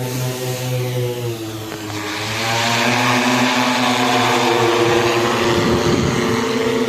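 Loud, close mechanical buzzing from an agricultural spraying drone's rotors, a strong whirring drone that swells and rises in pitch as it spins up, continuous throughout.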